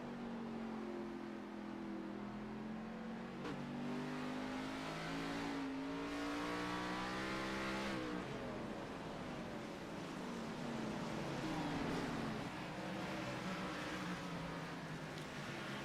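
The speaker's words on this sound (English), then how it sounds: "And you can hear how low the RPMs get for these cars through the corner" A pack of stock-style race cars on the iRacing sim at North Wilkesboro Speedway, engines droning at low RPM through a corner, with overlapping pitches sliding down and then climbing as the loud, continuous engine noise carries on without talk.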